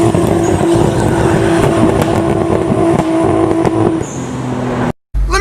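A Nissan GTR engine runs loud and steady at high revs for nearly five seconds, with a sustained droning tone, then cuts off abruptly near the end.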